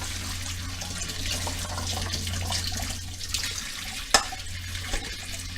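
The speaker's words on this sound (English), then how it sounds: "Run water at the same time so it doesn't burn your drain." Kitchen tap water runs steadily into a sink while pasta is drained, a continuous close splashing hiss with a couple of brief clunks near the end and no talk.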